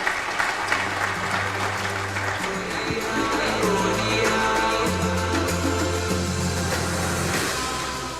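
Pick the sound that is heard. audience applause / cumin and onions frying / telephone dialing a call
audience applause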